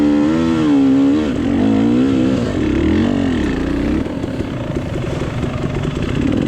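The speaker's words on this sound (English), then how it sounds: "And there goes the Kawasaki." A Kawasaki dirt bike climbs a slick muddy hill during a hare scramble race, its engine revving and rising and falling loudly and up close before settling into a steadier drone.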